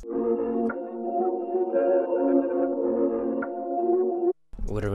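A percussion one-shot from Coop's one shot kit, used in a dark vintage-style beat, rings as a sustained tonal hit for about four seconds, then cuts off before a brief sharp burst at the end.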